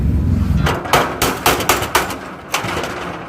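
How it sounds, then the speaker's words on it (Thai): A screwdriver is struck and driven in with a hammer, about six sharp metallic knocks in an uneven rhythm, close and loud over a low background rumble. "เดี๋ยวเราใช้ไขควงตีเข้าไปนะครับ"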